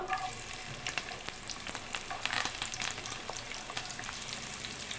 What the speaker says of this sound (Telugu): అలానే పచ్చిమిరపకాయలు కరివేపాకు ఫ్రై చేద్దాం